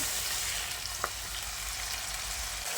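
Tomato paste added to a frying spice mix for a Bengali rohu fish curry sizzles steadily and close, a dense hiss with one brief stir clink, no talking.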